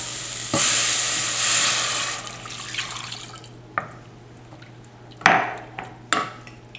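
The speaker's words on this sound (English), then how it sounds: "Now we're going to add our stock." Stock hits a hot pan of roux with a loud splashing hiss that fades into quieter bubbling, and several sharp clinks and knocks follow.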